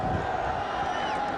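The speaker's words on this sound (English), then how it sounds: "The crowd's coming on 3rd down." A stadium crowd at an NFL game, Chargers at Lions, roars in a sustained, distant-sounding wash of cheering under an announcer's voice.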